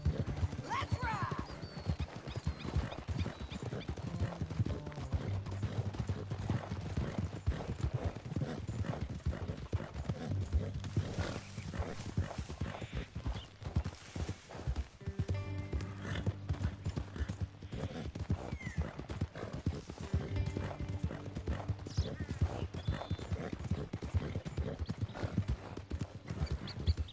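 Horse hooves gallop in a steady clip-clop rhythm in Red Dead Redemption 2, running under the whole passage with an occasional whinny, while voices talk over the riding.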